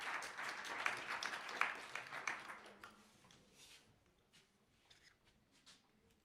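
Scattered applause from the audience at a pitching session, moderate claps that swell briefly and then thin out and fade to a few quiet claps.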